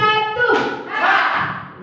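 Elementary school students at SDN 26 clap together once on command. A voice speaks first, then the group's clap lands as a single short, fairly close burst, followed by brief murmuring.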